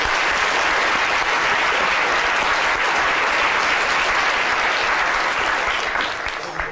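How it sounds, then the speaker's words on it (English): A lecture audience breaks into a dense, sustained round of applause, loud and even throughout, fading slightly in the final moments. "Big round of applause for London Satellite."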